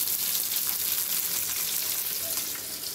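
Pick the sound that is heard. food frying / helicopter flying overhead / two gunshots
food frying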